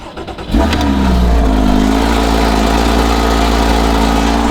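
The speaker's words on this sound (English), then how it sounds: "So let's start the Cayman." A Porsche Cayman's engine cranks and fires with a quick surge, then settles into a steady, loud, close idle that holds to the end.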